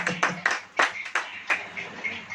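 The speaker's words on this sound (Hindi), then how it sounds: "ताली हो जाइए।" A church congregation claps in a loose, uneven rhythm, about eight strong hand claps that soften and scatter toward the end, close and fairly loud with no speech.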